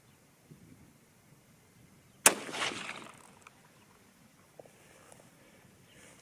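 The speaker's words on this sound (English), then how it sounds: "All right, first shot." A single sharp 30-06 Springfield rifle shot firing a 165-grain Sierra GameKing handload, a loud close crack with a brief rolling tail, then quiet.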